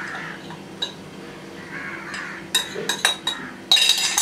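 Nankhatai dough mixture being stirred and mixed in a bowl, with scraping and a run of sharp clinks and taps from utensil against the bowl, growing busier toward the end, heard alone without talk.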